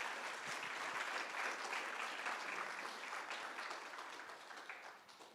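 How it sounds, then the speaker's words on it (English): Sustained audience applause at a guide dog graduation ceremony fills the room, steady and dense with many hands clapping, gradually thinning toward the end. "Please give them a huge round of applause."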